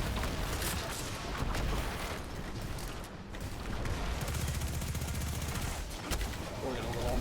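Mountaintop grenade launcher fired in Destiny 2 amid a chaotic firefight, a run of dense booming shots and explosions mixed with other gunfire, partly under a voice.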